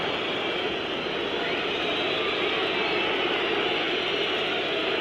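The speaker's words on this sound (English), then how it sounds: "Crowd whistling every time Koeman gets the ball." A stadium crowd at a 1994-95 Champions League football match between Manchester United and Barcelona whistles at Ronald Koeman as he takes the ball, a steady, dense roar of whistling and noise that holds throughout.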